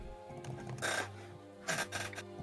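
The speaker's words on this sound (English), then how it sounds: "You hear a few birds chirping." Two harsh, raspy bird calls, cawing bursts a second apart, faint and somewhat distant over a steady low background hum.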